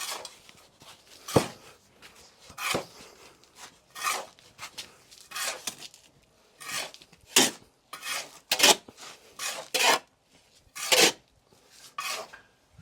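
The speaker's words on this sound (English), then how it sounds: "the sand needs to be mixed with the cement to lay a very high quality mortar." Sand and cement being mixed by hand into mortar for a garden brick wall, heard as irregular close scraping and rasping strokes separated by short pauses.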